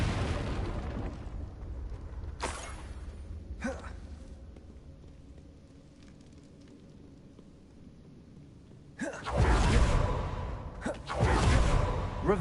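Fire blast spells cast in Hogwarts Legacy ring out as loud, bursting whooshes, one short flare early then a heavier pair of blasts near the end, over a low, rumbling ambient bed.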